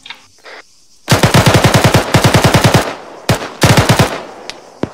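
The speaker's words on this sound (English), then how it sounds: "Shooting Simba." Machine gun fire in the military video game Arma rips out in loud, close, rapid bursts, three strings of evenly spaced shots separated by brief pauses, with no talking.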